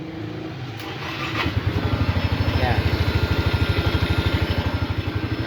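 A Yamaha Mio i125 automatic scooter with a starter fault fires up and settles into a loud, steady, rapidly pulsing idle close by, with a brief word spoken just before it catches.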